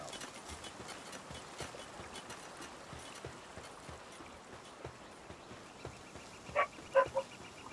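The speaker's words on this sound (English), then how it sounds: "I don't know if you can hear that barking." A small dog yaps a few times off in the distance, short sharp barks rising near the end over a faint background with soft rhythmic tapping.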